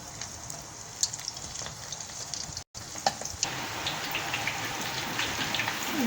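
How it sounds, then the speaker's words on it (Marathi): Soybean chunks fry in hot oil in a wok with a steady, close hiss and scattered popping crackles that swell slightly later on, broken by a brief silent gap, with no talking. "असे मस्त तळून द्यायचे छान असे वरून क्रिस्पी झाले पाहिजे"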